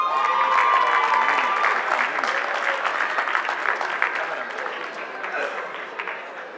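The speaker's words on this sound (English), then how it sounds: "Can I have a very big applause for her?" A crowd at a closing ceremony applauds loudly and continuously, with dense clapping that fades gradually toward the end.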